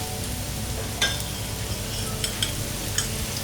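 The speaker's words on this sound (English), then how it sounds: "So once the oil is hot, we start with the onions first" Onions fry in hot refined sunflower oil, giving a dense, steady sizzle up close with a few light utensil clinks and scrapes scattered through it.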